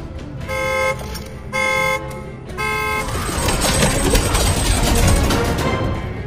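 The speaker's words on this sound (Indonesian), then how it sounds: "Tiba-tiba sebuah mobil box berbunyi." A box truck's horn or alarm honks in three loud, evenly spaced blasts, each about half a second long. A dense, noisy commotion then rises and carries through to the end.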